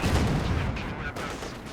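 Gunfire from a machine gun in the World War II strategy game Company of Heroes 2, a dense burst of loud battle noise that fades slightly over a short moment.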